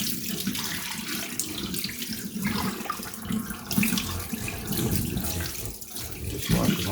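Tap water runs into a kitchen sink while a raw turkey is washed, a steady close splashing stream that shifts and gurgles as the bird is moved under it.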